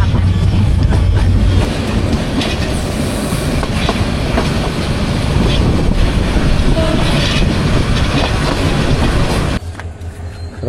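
The Udayan Express passenger train runs at speed on the line between Chattogram and Sylhet, giving a loud, steady rumble with rattling wheel clatter from inside a carriage that drops quieter near the end.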